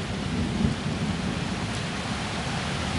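Steady continuous rain pouring down with a low thunder rumble underneath, a dense, unbroken hiss of drops at even loudness throughout, with no voices.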